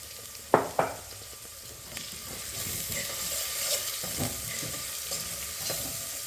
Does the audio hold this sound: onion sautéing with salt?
yes